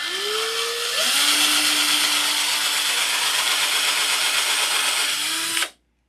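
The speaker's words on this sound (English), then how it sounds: "We got a drill press that runs with a belt, you know, big wide leather belt." An antique drill press driven by a big wide leather belt runs in a metal workshop, a loud steady whir that spins up, holds for several seconds and then cuts off abruptly.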